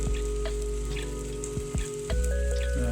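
Vegetable roti frying in hot oil in a pan, a steady close sizzle with crackling pops and light bubbling throughout, with occasional soft clinks.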